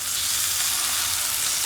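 Chopped tomatoes hitting frying onions in a hot pan for tomato-onion chutney, a loud, steady, close-up sizzle with no pauses.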